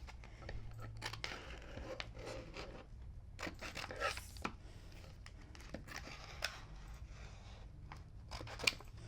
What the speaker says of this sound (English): I'm just going to take scissors and cut out my design from here.